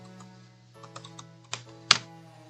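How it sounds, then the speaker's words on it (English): A computer keyboard is typed on loudly, with scattered clicks and key presses that build to a few sharper clacks near the end, heard over a faint steady hum. "Loud typing noises engage."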